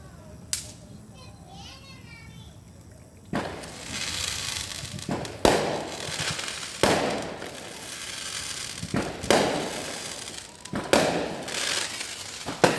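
Fireworks go off outdoors in a series of sharp bangs and crackles, some loud and near, others softer, spread unevenly over steady background noise with faint voices.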